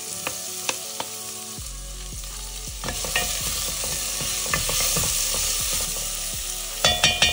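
Onions drop into hot oil with frying cumin and burst into a loud close sizzle, followed by busy spatula scrapes and clicks and a few sharp knocks on the pan at the end, with no talk.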